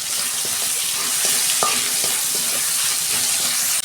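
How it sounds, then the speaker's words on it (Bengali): Tomato, salt, turmeric and a pinch of asafoetida being sautéed in a pan for mung dal, with steady close sizzling and frequent scraping stir strokes throughout. "দু মিনিট কষাবো আমি।"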